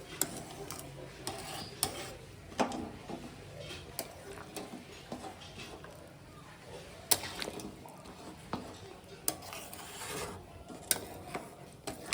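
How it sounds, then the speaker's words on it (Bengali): Whole garam masala spices — cardamom, cinnamon, cloves, black pepper — ground by hand, a quiet rhythmic rasping and scraping with intermittent sharper knocks at irregular intervals. "তো এই যে গরম মশলা বেটে নিবো, গোটা গরম মশলা।"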